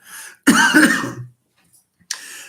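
A single rough, throaty cough, close and loud, followed by silence and then a short second burst of throat clearing.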